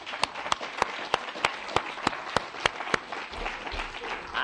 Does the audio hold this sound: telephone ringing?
no